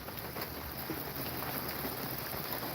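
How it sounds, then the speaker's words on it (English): Steady rain falls in sunshine, a dense, even hiss of drops on surfaces close by, continuous and unbroken with no voices. "I love a sunny rain"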